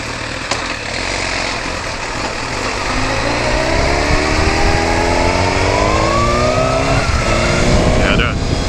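A 2012 Suzuki GSX-R 1000 sport motorcycle accelerates steadily through the gears, its engine note climbing in rising sweeps over constant wind rush, close and loud throughout.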